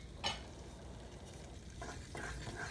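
Garlic sizzling in heated butter in a frying pan, a steady soft hiss with a light clink of a utensil near the start and a few stirring scrapes later, close and fairly quiet.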